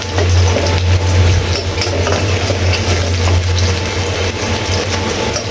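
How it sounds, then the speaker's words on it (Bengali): Onion, garlic and green chilies sizzle in hot oil in a wok, a loud steady frying hiss with stirring scrapes throughout and a low hum underneath. "কড়াইতে তেল, পেঁয়াজ, রসুন, কাঁচামরিচ দিয়ে দিচ্ছি। এগুলা ভেজে নিচ্ছি।"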